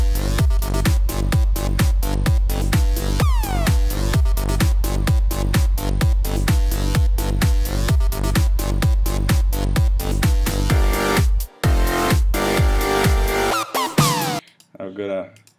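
A loud electronic music track, mixed without a limiter, with a steady, punchy kick and bright synths driving a fast beat, briefly dropping out near the end before trailing off.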